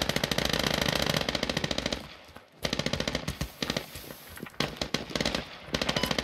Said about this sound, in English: Be careful, that sounds like 5x6 shots.